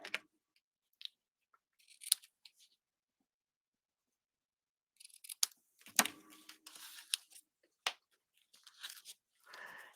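Scissors snip ribbon tails at a craft table, a few quick near cuts early on and a denser run of snips and rustling later, with quiet gaps between.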